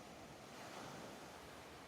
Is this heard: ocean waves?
yes